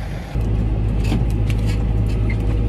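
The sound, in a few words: Fendt tractor driving around the field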